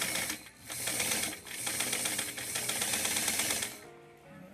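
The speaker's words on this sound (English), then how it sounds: "get my machine off zigzag. And do your backup stitch." Sewing machine running a backstitch on doll pajama pants fabric: a steady, close mechanical whirr in three continuous runs with brief pauses between them, then stopping.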